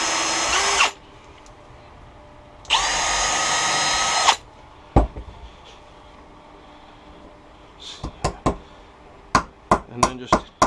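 Two long whining bursts of a power drill with a 1/16 inch bit drilling beehive parts, followed by a scatter of sharp taps and clicks.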